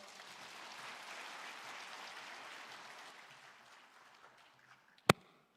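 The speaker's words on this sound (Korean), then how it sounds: "교육감님께 다시 한번 큰 박수 부탁드립니다" An audience at a public hearing in Haenam claps for the superintendent of education, steady applause for about four seconds that fades out, followed by a single sharp knock near the end.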